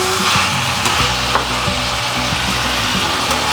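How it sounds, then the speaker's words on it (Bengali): Chicken meat sautéing in a pan for a curry, a steady loud sizzle and fry with occasional scrapes and stirring knocks from a spatula, close up and without talk. "এখন মাংসটাকে একটু কষাতে হবে"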